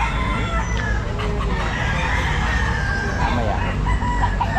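Bull stag roosters crow and cluck amid a noisy pet market crowd in Grotto, the crowing calls overlapping with steady background chatter, and a person speaks briefly.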